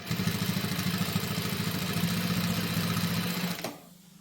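A Juki MH-380 double chain stitch sewing machine stitches very thick material at a steady, rapid mechanical rhythm, a chattering hum that runs continuously and then stops abruptly.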